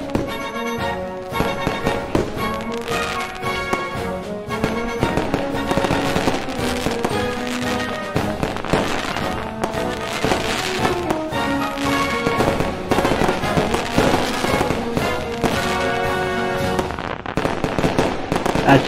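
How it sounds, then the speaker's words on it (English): Fireworks crackle and pop repeatedly over background music, a dense stream of sharp bursts mixed into a loud, continuous musical track. "With this song, with this music playing in the background and the fireworks."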